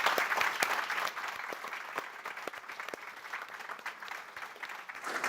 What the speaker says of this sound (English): give our Olympians a round of applause